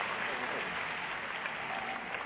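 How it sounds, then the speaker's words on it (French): Loud, dense applause from an audience in a hall during an evening event, continuous clapping with crowd murmur blended in, no break across the short stretch. "applaudissez très fort pour eux."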